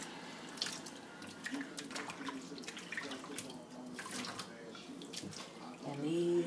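Water runs from a tap while virgin hair is washed, a faint, steady splashing hiss with brief louder gushes near the end.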